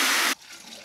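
Water pours into a bucket while clay is being mixed at home, a loud close rushing gush that cuts off abruptly, followed by faint trickling and dripping.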